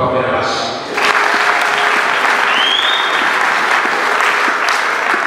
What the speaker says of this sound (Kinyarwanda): dufise abakozi badasanzwe bavuza neza tubakomera amashyi